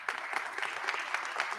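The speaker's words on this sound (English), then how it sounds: "Let's have another round of applause for all of our students of the month." An audience at a school board meeting claps for the students of the month: steady, even applause from a fairly large group, heard at a distance and fairly quiet throughout.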